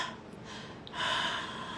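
Breathy exhales with air passing freely through open vocal folds, a soft airy rush that swells louder in the second half, close and alone with no talking.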